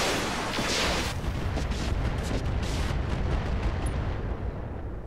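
Mech lasers fire in Roguetech, a BattleTech mod, as a loud sustained crackling, explosive roar with a sharp burst near the start and dense rumbling impacts throughout.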